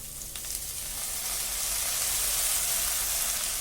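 Veg chowmein fries with soy, red chili and green chili sauces in a hot pan, a close, steady sizzle that swells slightly and holds, with no talking.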